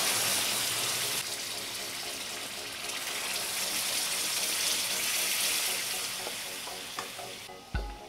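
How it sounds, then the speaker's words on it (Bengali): Hot water is poured into a kadai of mutton korma, producing a loud, sustained sizzling and bubbling rush close by that eases slightly toward the end. "এই গরম জলটা কড়াতে ঢেলে দেব।"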